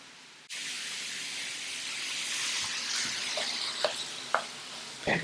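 Lamb stew ingredients with tomato puree are stirred in a hot pot, a steady close sizzle and hiss with a few sharp clinks of the spoon against the pot.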